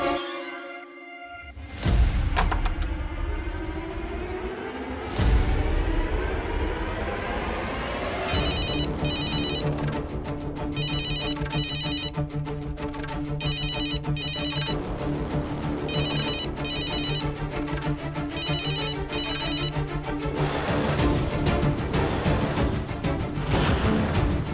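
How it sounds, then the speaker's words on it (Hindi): A telephone ringtone rings in repeated bursts during a Hindi TV drama scene, loud and close over a steady musical background, then gives way to fuller music near the end. "ये नमन सिंह इतनी बार काहे फोन कर रहा है?"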